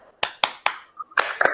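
A classroom group of children claps in a rhythmic chant pattern: three loud, evenly spaced claps, a short pause, then a quicker cluster of claps, close and crisp with no talking over them.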